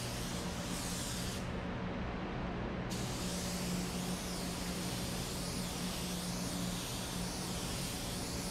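Spray gun laying a coat of black sealer onto a 4th-generation Camaro body part, a steady broadband hiss running throughout with a brief pause in the top end early on, close and fairly even in level.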